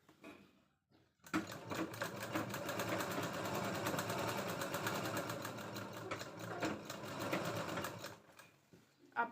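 A sewing machine runs steadily while stitching the sleeve of a katori blouse, a dense continuous whirr that starts after a brief quiet moment and stops near the end.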